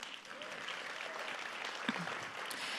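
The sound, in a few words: audience round of applause at a luncheon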